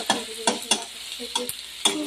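Garlic paste and chopped green chili frying in oil for a spicy pomfret curry, a low sizzle broken by six sharp spatula scrapes and knocks against the pan.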